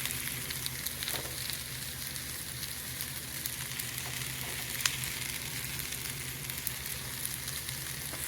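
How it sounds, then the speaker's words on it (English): Garlic frying in a pan with onion for spicy pumpkin soup, a steady close sizzle with faint crackles and occasional stirring scrapes, no voices. "What I'll do is I'll throw in the garlic now."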